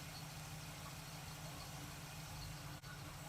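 A 1947 Ford street rod engine running with its choke opening, a faint, steady low rumble that holds even throughout apart from one brief dip near the end.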